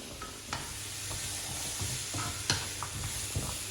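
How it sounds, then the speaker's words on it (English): Vegetables sauté in a pan with a quiet, steady sizzle and scattered soft stirring taps and scrapes, fairly faint and without any voices. "you're just going to saute them for about 7 minutes until the vegetables have softened up"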